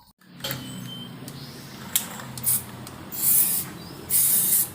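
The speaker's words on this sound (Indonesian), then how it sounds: "Kita semprotin pakai lingkut ya." Cleaner is sprayed into the carburetor of a Suzuki Katana Jimny, steady hissing with several sharper bursts of spray, close up and without talk.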